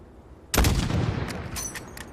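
A sudden loud burst of gunfire in the Call of Duty video game breaks a quiet stretch and is followed by a rumbling echo and a few lighter, scattered shots.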